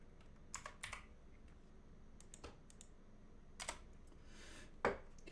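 Sporadic keystrokes on a computer keyboard, a few separate clicks and short bursts, faint and close with quiet gaps, no talking.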